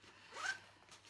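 A single quick zip from a triple-zipper Dooney nylon bag, faint and close, rising briefly and then fading into quiet room tone.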